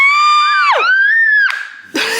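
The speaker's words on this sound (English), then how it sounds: "My daughter is just screaming and she's so happy for her mommy." A young girl screams with happiness in long, loud, piercing wavering shrieks, two sustained cries with a downward swoop between them, then a final burst.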